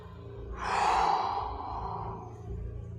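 A single strong breath during an intermediate vinyasa yoga class, heard as a close, rushing exhale that swells and fades over a couple of seconds without talk.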